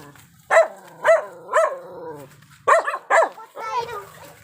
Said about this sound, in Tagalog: May aso po, oh.